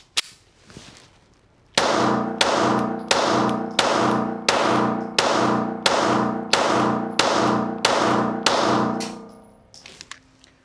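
Springfield Armory Hellcat pistol emptied in a rapid string of about a dozen loud, close gunshots at an even rhythm, each with a ringing tail, ending in quiet.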